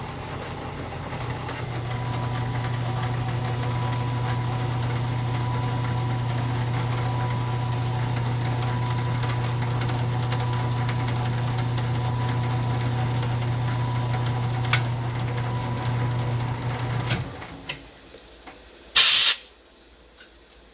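A lathe cutting muzzle threads on a rifle barrel gives off a loud, steady mechanical drone with a strong low hum. It runs evenly for about seventeen seconds, then stops, leaving a few faint clicks and a brief hiss.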